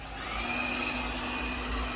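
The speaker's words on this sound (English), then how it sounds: "Hey, go start the vacuum." A BPMIO B10 Plus robot vacuum starts with a steady, close whirring hum of even loudness and no talking.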